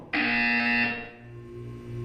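A loud electronic buzzer from the video game Portal 2 sounds alone for about a second with a harsh, steady tone, then cuts off and fades into a low hum.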